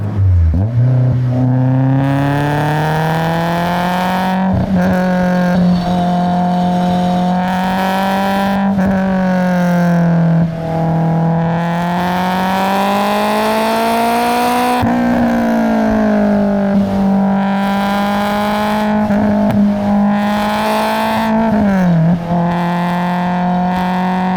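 A supercharged Honda S2000 engine revs and pulls hard through repeated gear changes, the supercharger whine rising and dropping again and again, loud and close with no talking.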